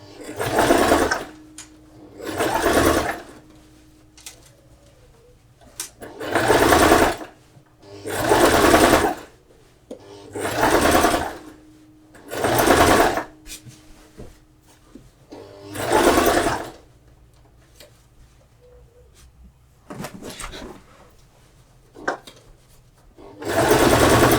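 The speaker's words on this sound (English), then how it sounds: "now I'm going to sew the dress. I just have it on the machine" A sewing machine stitches a shirred summer mini dress in repeated bursts of loud, close whirring, each lasting a second or two, separated by quiet pauses as the fabric is repositioned.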